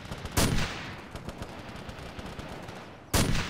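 Rifle gunfire in a military shooter video game: two loud, sharp shots at the start and end, with a rapid stream of fainter distant shots crackling between them.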